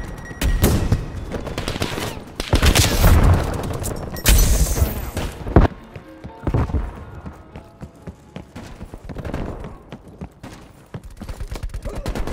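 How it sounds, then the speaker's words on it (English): Sniper rifle fire in the Black Ops Cold War Combined Arms Assault mode on the Miami map. Sharp, loud shots and booming blasts come in clusters, then thin out into scattered distant gunfire. "Sniper taking shots."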